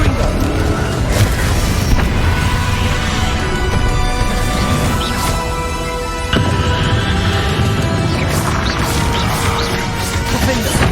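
Confringo fire spell blasts in Hogwarts Legacy, a dense run of loud smashing booms and crashes layered over game music and effects, nearly continuous with heavy impacts throughout.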